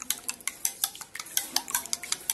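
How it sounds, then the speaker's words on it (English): A whisk or fork beats eggs in a bowl with quick, regular clinking taps, about six strokes per second, crisp and close, with no talking. "So now I'm beating the egg."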